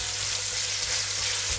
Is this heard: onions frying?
yes